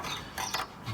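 A nut being turned with a spanner on the rear suspension strut of a Mercedes SLK R170, giving a brief ratcheting click of metal, close and fairly loud.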